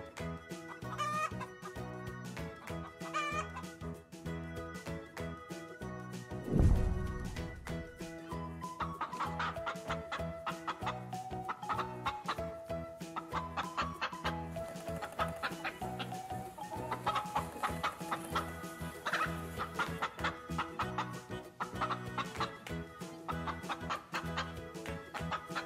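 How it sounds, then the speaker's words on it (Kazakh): A chicken clucks in short bursts over continuous cheerful music that stays prominent throughout. "Бұл тауық."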